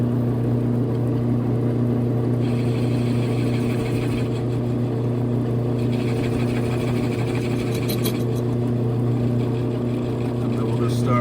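A lathe takes a light cut on a flange for a 2011 Camaro SS subframe section, with a steady loud machine hum and tonal drone throughout, punctuated by brief brighter cutting hiss bursts, while someone talks.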